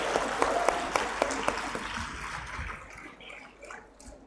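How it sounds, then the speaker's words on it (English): A conference audience at PRADANYA 2019 applauds, distinct claps ringing out early and then thinning and fading into a quieter room over several seconds. "That's again a big round of applause in all the sessions."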